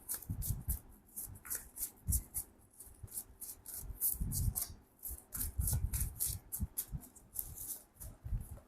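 Tarot cards shuffled by hand in a quiet room, a rapid series of crisp riffling and rubbing bursts repeating close up with short pauses between them.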